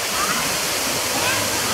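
Zoo waterfall near the gorilla and orangutan exhibits at Omaha's Henry Doorly Zoo, a steady close broadband rush of falling water filling the whole short stretch with no pauses.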